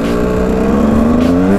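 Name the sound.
KTM 125 EXC dirt bike engine while riding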